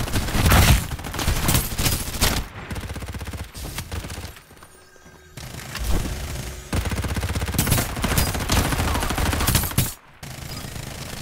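Sustained machine-gun fire in the multiplayer mobile war game Farlight 84, loud rattling bursts broken by short quieter gaps, with a sharp burst near the end.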